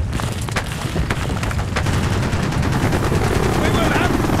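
Call of Duty Black Ops gunfire from a tunnel fight, with dense, loud bursts of automatic fire and booms running steadily throughout, and voices talking over it.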